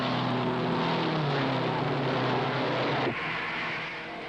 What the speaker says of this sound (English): 33 cars string out, moving down the backstretch, with Hurtubise holding first place